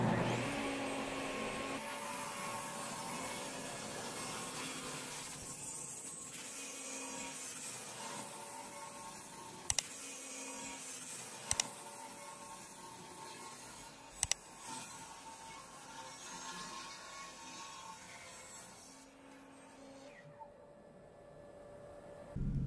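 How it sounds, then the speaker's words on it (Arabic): A power saw whines steadily through a wooden board for a long stretch, trimming its edges, with a few sharp knocks, before the motor winds down near the end. "هنظبط المنشار على 10 سنتي الأول وناخد اللوح عشان نشطف الحروف بتاعته"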